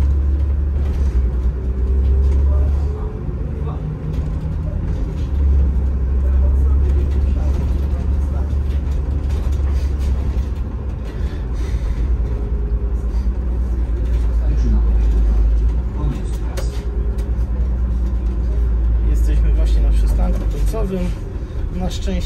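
An MPK Rzeszów city bus on line 44 toward Tyczyn rumbles steadily from inside the cabin, a continuous low engine drone with road noise throughout.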